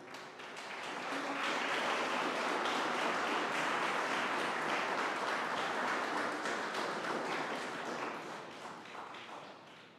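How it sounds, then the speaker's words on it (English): A large audience applauds honorees at a New York State governor's ceremony recognizing defense forces, with steady sustained clapping that swells and then gradually fades over ten seconds. "Please give one more round of applause for all of today's honorees as they join the governor for a group photo."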